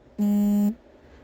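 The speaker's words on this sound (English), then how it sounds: "That was just my phone going off." A single mobile phone notification beep rings out as one steady electronic tone lasting about half a second, loud and close, with quiet room hiss before and after.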